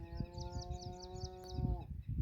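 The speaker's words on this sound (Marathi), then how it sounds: "बघा आपली घुंगरू गाय कशी ओरडते" A cow with bells lets out a single long, drawn-out moo nearby on a farm, over rustling and shuffling background noise.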